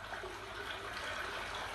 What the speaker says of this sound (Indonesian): Dengarkan suara air itu.